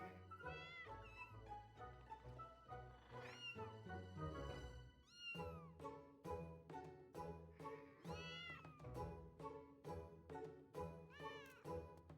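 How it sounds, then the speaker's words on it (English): Kittens meowing in the Final Fantasy XIV video game, with repeated high, gliding meows over a continuous musical soundtrack. "these are my kittens"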